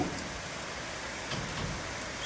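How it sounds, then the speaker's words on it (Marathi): Heavy night rain pours steadily in Itkur, Kalamb taluka, with wind, a dense, constant hiss close at hand and a few brief drop splashes, no voices. "कळंब तालुक्यातील इटकूरमध्ये या पडणाऱ्या धो पावसाच्या सरी आपण पाहत आहात. बघा, वारं आणि पाऊस,"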